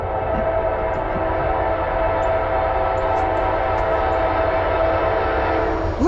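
Norfolk Southern 8101, a Central of Georgia heritage locomotive, rumbles past close by with a loud, continuous diesel roar and rolling rail noise throughout; no voices.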